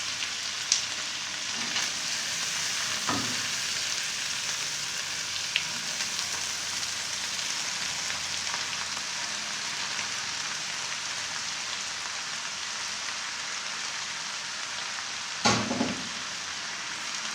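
Rice and egg for vegetable fried rice frying in a pan, a steady close sizzle running throughout, broken by a few sharp clinks of a utensil against the pan.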